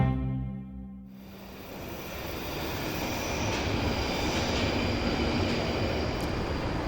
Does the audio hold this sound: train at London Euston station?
yes